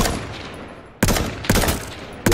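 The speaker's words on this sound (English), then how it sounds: "shotgun." Three sharp, loud shotgun blasts from H1Z1, each a sudden crack with a brief ringing tail, spaced unevenly over a couple of seconds with no one talking.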